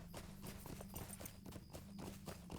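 Horse hooves clip-clop in the online game LOTRO, a quick, steady run of hoofbeats in close succession, moderately loud and continuous over a low ambient game background.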